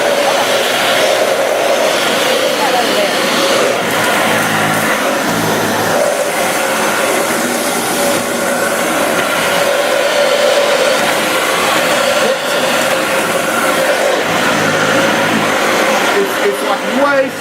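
Dyson Ball Multi Floor 2 vacuum cleaner running on a floor in beater mode, a loud continuous motor whine with a steady tonal hum and slight fluctuations as it is pushed around.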